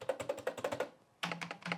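Quick clattery keystrokes on a cheap budget gaming keyboard, two short bursts of rapid typing separated by a brief pause, close and fairly quiet.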